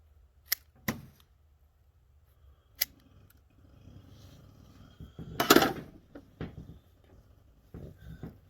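Scissors snip at a homemade crankbait lure, giving sharp, close clicks spaced apart, then a busier burst of cutting and handling noise before a few last snips.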